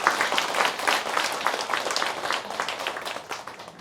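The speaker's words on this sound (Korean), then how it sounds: "우리 크게 한 번 더 박수하겠습니다" A church congregation applauds together in a steady, dense wash of clapping that holds throughout and eases slightly toward the end, with no speech over it.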